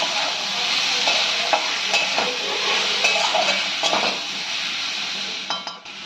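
Cardamom, cinnamon and cloves mixed in an oiled pan for dhaba-style chicken, a spoon clinking and scraping against the metal over a soft continuous sizzle, close by and without talk.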